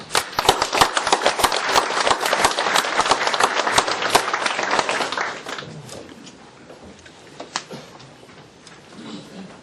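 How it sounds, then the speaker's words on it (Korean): An audience in a lecture hall applauds to welcome a professor, with dense clapping for about five seconds that then thins to scattered claps and quiet. "여러분 큰 격려의 박수 부탁드립니다"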